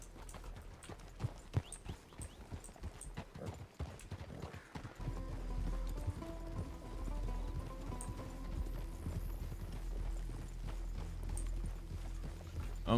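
Horse hooves clip-clop at a steady walking rhythm in the RedM Western roleplay game, audible through a busy first half and continuing under a sustained, even ambient tone afterward, with no talk.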